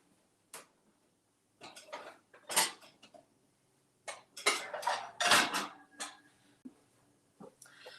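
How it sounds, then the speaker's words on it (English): A large sauce pot being taken out in a home kitchen, with a scattering of metallic clanks and rattles of pots and lids in separate bursts, close by and with no talking. "So let's get a pot for our hot cocoa."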